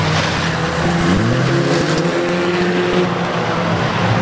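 A race car in a caravan race at Arena Essex laps the oval with a loud, continuous engine roar whose pitch rises and falls as it passes, over a steady wash of crowd and track noise.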